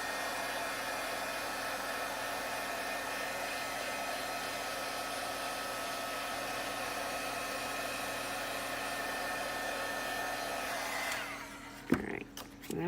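A heat tool blows steadily and loudly at close range to dry Copic marker ink on a handmade Christmas card, a constant whooshing roar that cuts off near the end, leaving some handling clatter.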